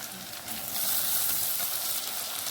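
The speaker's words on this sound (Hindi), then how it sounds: "यहाँ पे मैं 1 टेबल स्पून भरकर डाल रही हूँ अदरक लहसुन का पेस्ट" Ginger garlic paste sizzles in a pan with frying onions for a spicy potato and egg curry, a steady hissing crackle that swells slightly and continues evenly close by, with no talking.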